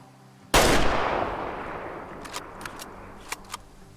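A single loud, sharp hunting-rifle shot from the Way of the Hunter game cracks out and rings away with a long fading tail, followed by a few faint distant clicks and ticks.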